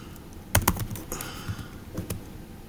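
Quick bursts of typing on a computer keyboard, clustered key clicks with short pauses between, fairly close and quiet.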